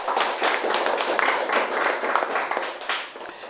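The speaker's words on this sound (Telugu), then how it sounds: "ఈ జగద్గురువులందరూ గట్టిగా చప్పట్లు కొడతాం." Audience applause at a film promotion event in Hyderabad, a dense, steady wash of many hands clapping loudly throughout, easing slightly near the end.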